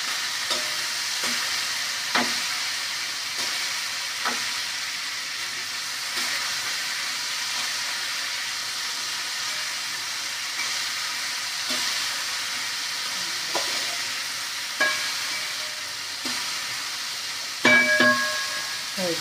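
Food fries in hot oil with a loud, continuous sizzle and hiss throughout. Occasional utensil clinks and taps break through, and there is no talking.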